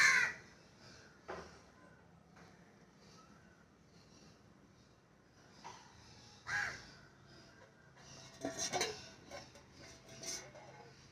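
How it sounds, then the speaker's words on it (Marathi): Scattered crow caws sound at a distance over a quiet outdoor background, where food has been put out for them, a few sharp calls spaced out with longer gaps between them. "कावळ्यासनी खायला आणून टाकलंय मस्तच."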